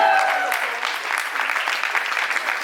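An indoor audience at a trailer launch event for the Disney+ Hotstar series Aarya Season 3 claps and cheers loudly, a dense burst of applause with shouts near the start that settles into steady clapping.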